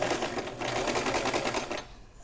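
A sewing machine backstitches the lining of a crochet summer bag, a dense rapid whirring run of stitches lasting almost two seconds before it stops, close and alone.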